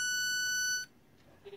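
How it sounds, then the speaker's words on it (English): Electronic ringback tone of a phone call placed through an Icom wi-fi radio system, a steady harmonic beep lasting almost a second and then cutting off, leaving a quiet background. "and that phone is ringing"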